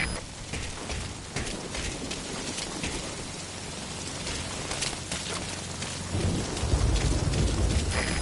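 In Metal Gear Solid V: Ground Zeroes, heavy rain pours steadily as thunder rumbles low beneath it, swelling louder toward the end.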